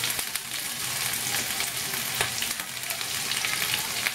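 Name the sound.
onion, capsicum and carrot frying in a pan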